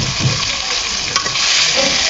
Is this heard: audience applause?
no